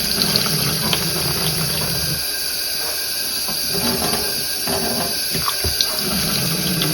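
Tap water runs steadily in a sink while dyed yarn is rinsed, a continuous loud hiss with splashing and gurgling shifts as the yarn is moved under the stream.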